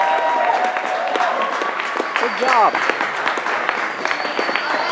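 Audience applause fills a hall at the 2017 Clermont Comic Con cosplay contest, sustained clapping with a few cheers and whistles, while people speak over it.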